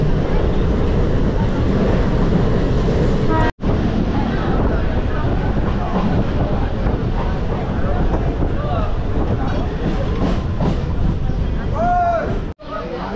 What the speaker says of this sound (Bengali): চারদিক থেকে হাওয়া ঢুকছে